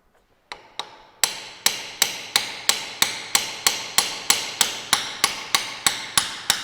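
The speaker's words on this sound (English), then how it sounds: "and then start chipping" A hammer strikes a flat cold chisel chipping a metal workpiece, about fifteen sharp, ringing blows at a steady, even rhythm after a few lighter starting taps, close and loud.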